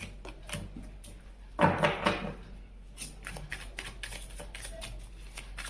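Tarot cards shuffled by hand, a brief crisp riffling burst followed by softer scattered card flicks and taps, close and quiet, with faint background hiss.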